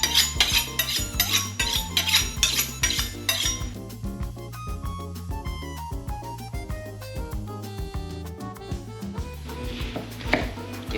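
Alabama white sauce whisked in a bowl, a busy run of metallic clinks and scrapes of utensil against the dish, close and fairly loud, with the rhythm loosening and growing sparser toward the end.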